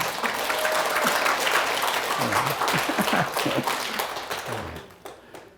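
A church congregation at a revival meeting breaks into warm applause. The steady crowd clapping carries on for several seconds, then fades away near the end.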